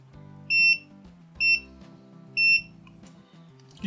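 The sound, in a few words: multimeter continuity test beep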